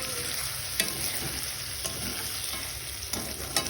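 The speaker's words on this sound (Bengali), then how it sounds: "এবার এটাকে ভালো করে তাকে মিক্স করে ভেজে নেব" Vegetable bhaji being stirred and fried in a pan, an even hissing sizzle broken by several spatula scrapes and knocks against the pan.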